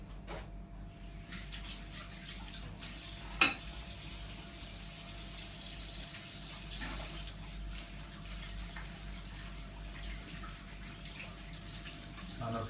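A jar rinsed under a running tap in a home kitchen, a faint steady stream of water with a few soft clinks and splashes, no talk.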